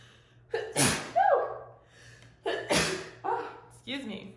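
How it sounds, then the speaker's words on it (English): A person sneezes indoors during a tarot reading: a sharp, close, explosive burst followed by a gasping vocal sound, then a second forceful sneeze-like burst with breathy exhales afterward. "Let me know if that sneeze resonated"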